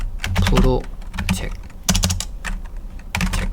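Keys clatter in quick bursts on a computer keyboard while text is entered in the vi editor, close and fairly loud, with short pauses between runs of typing.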